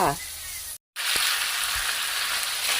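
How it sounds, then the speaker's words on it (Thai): Pork skin for crackling stir-fries in a pan with a little water. A close, continuous frying hiss runs throughout, broken once by a short moment of silence. "ผัดบ้างหยุดบ้างอย่างเงี้ยจ้ะ"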